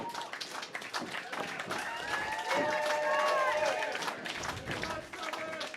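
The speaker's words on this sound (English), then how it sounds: "Crowd's getting into it." Wrestling crowd cheering and clapping at the opening bell of a tag team match before a full house, a noisy roar with whistles and shouts, overlaid by commentary talk.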